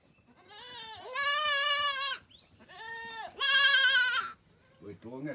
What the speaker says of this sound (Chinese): 主要这里有一群小羊在这里叫